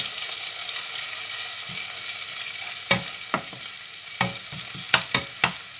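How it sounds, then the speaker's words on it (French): Parsley, garlic and spring onions fry in oil with a steady sizzle while a spoon stirs them, giving a few sharp scrapes and taps against the pan near the end, close and clear, no talking. "je commence par mon mélange persil, ail et jeunes oignons. Je mélange."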